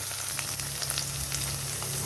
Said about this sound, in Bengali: পেঁয়াজটা হাফ ভাজা হয়েছে